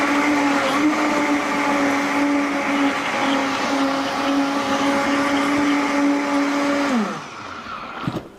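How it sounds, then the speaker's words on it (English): A high-powered blender whirs loudly and steadily for about seven seconds while blending a faux cheese sauce, then the motor winds down and stops, followed by a brief clatter. "We're going to put the top on our blender."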